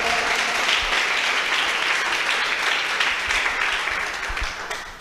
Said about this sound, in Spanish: ¿Cuántos pueden aplaudir al Señor en esta hora?